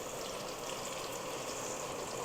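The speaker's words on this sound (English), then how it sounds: "I'm going to start frying" Fish frying in a pot on the stove gives a steady, even sizzle and crackle with a hissing wash that holds at a constant moderate level throughout, with no talking.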